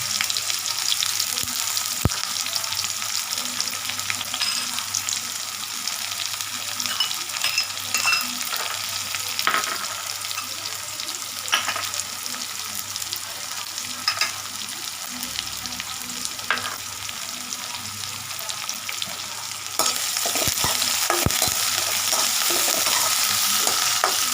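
Curry leaves and tomato frying in oil for a dal kuzhambu, a continuous close sizzle with occasional stirring scrapes, rising louder near the end, no talk.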